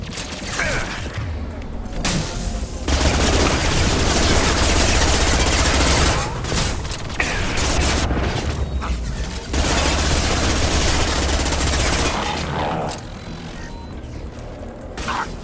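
SMG gunfire in the sci-fi video game Mass Effect 2, loud rapid bursts of automatic fire broken by short pauses, with booms and mechanical clatter mixed in and a voice talking now and then.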